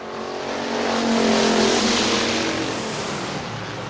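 Factory stock race cars battling at Hartford Speedway, a loud engine roar swelling as the pack passes close by then fading, no talk over it.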